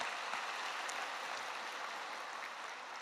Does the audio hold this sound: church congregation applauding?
yes